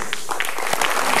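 A studio audience on an Indonesian motivational talk show gives a short burst of steady applause, fairly quiet and even throughout.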